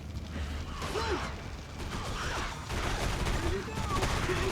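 Pistol gunfire in the Area 51 PS2 video game, repeated mechanical gunshots and clicks mixed into game noise, with someone talking over the action.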